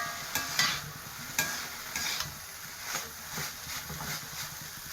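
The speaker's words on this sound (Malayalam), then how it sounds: "അതുവരെ നമുക്കിങ്ങനെ ഇളക്കി കൊടുക്കാം" Spatula scraping and stirring through a beans and beetroot stir-fry in a pan, with soft steady sizzling and several sharp scrape accents, close up and alone without any voice.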